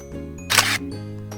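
In a cat-collecting video game, a camera shutter snaps a photo of a cat with a short, bright click over soft looping game music. A second fainter click follows near the end.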